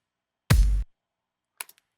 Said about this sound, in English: I love this kick sample. Just super solid and punchy, not too clicky on the attack.